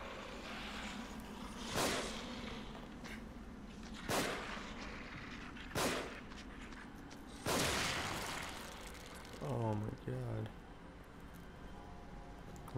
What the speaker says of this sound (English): time to pull out the magnum